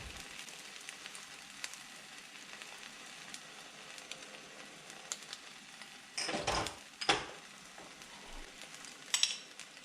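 An egg frying in a pan for a sausage breakfast, giving a faint steady crackle and sizzle, with a few louder bursts of spatter and pan handling near the end.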